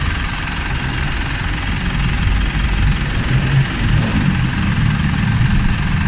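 Car engine idling during a charging system check, a steady low rumble with a faint knocking pulse, close and continuous for several seconds with no talk.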